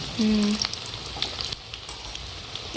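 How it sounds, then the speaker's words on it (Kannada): Crispy corn pakoda fry in hot oil with a soft, bubbling sizzle, opened by a brief tone and ending on a louder burst close by. "ಜಲ್ದಿ ಫ್ರೈ ಆದ ನೋಡ್ಬೇಕು"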